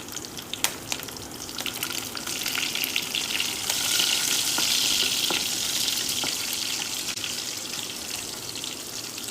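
Cumin seeds, green chilies, curry leaves and garlic sizzle steadily in hot oil in a pan, a continuous close frying hiss with scattered crackles and pops throughout.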